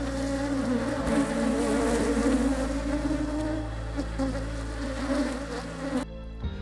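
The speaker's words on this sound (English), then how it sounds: "we see the bees are highly productive" Honey bees buzz steadily at a beehive being prepared for spring, a dense close hum of many insects droning continuously and fairly loud before cutting off abruptly near the end.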